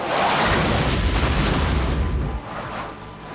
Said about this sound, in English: The explosion here rocked the ranch of Enrique Rojas less than an hour ago